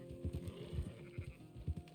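Sheep in the video game Red Dead Redemption 2 bleat in a quick run of short, throaty calls overlapping one another, moderately close and clear, with no talk over them.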